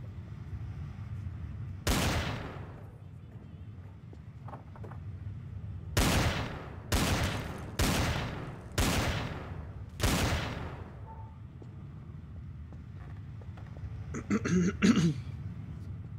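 Gunfire in the multiplayer shooter game Trouble in Terrorist Town: six sharp, loud shots, one alone and then five in a quick, uneven burst, over a low game hum, with a brief muffled voice near the end.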